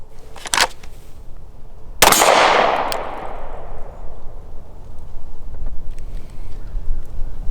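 A single handgun shot rings out loud and close during a timed draw-and-fire drill, its sharp crack followed by a long echoing decay; a fainter pop comes just before it at a shooting range.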